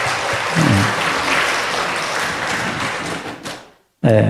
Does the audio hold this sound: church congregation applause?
yes